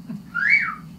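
A woman whistles a single short rising-and-falling note, clear and fairly close, over faint low background hum.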